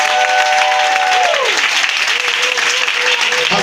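Congregation in a church service applauding and cheering for God, a dense continuous wash of clapping and crowd noise, loud and steady throughout, with a sustained sung or held tone gliding downward at the start.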